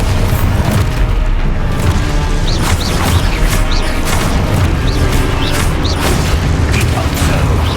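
Repeated booming spell blasts and crashes from the Expulso explosion spell in Hogwarts Legacy, loud and continuous with overlapping impacts and clattering debris throughout.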